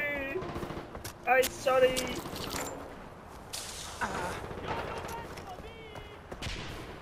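Bursts of automatic gunfire and shots ring out in the Far Cry 4 video game on PS5, some loud and some further off, while someone shouts and talks over the shooting.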